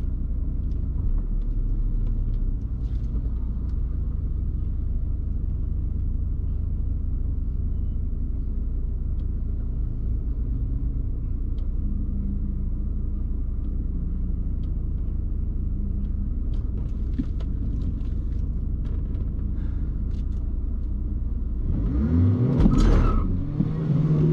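Drag race cars at Biķernieki track, one lined up against a Porsche: a steady heavy engine rumble idles for a long stretch, then near the end an engine revs hard and sweeps upward as the car launches and pulls away.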